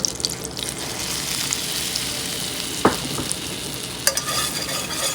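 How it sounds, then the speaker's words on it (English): Flour being whisked into melted butter in a pan while making a mac and cheese roux: a steady close sizzle with scraping stirs and a couple of sharper clinks, no voices. "Now that the butter is melting, you're gonna go ahead and add some flour."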